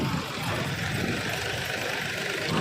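Goods vehicle engine idling at an onion market during loading, a steady close rumble with a faint knocking texture running unbroken throughout, no voices.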